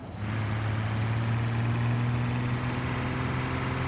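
Diesel truck engine in the BeamNG.drive driving simulator, from a tow test of a 6.0 Powerstroke, 6.7 Cummins and 6.6 Duramax, heard as a steady, loud low droning rumble with a constant pitch throughout.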